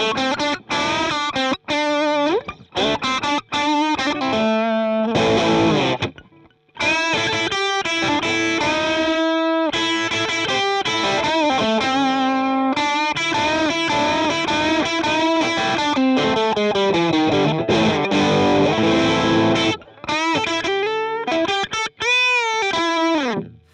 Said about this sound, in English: there is this one which has an overdrive pedal into a 1x12, and it goes a bit something like this